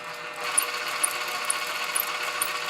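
An electric drill drives a Meccano Maker System 20 aerial rescue set model of a Chinook helicopter and Land Rover Defender, giving a faint, steady motorized whir with small regular clicks about every half second.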